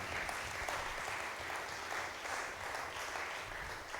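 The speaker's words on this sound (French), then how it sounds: "Can we give a good hand?" A church congregation claps together during a service, making a steady, dense and even applause that holds at a moderate level all the way through, with no voices over it.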